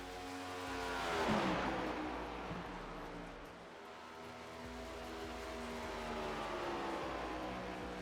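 Cup car engine in iRacing, heard as a steady engine drone with a rising sweep early on and then a sustained, moderately loud tone.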